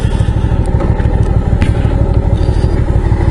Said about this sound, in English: Now, I'll just pull up over here and give you guys a bit of a look of what this bike looks like.